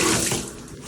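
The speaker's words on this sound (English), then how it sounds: "I can conserve the amount of water that's coming out" Water streams steadily from a Moen Engage Magnetix six-function 5.5-inch handheld shower head, a close, continuous hiss of spray that tapers slightly in level over a brief moment.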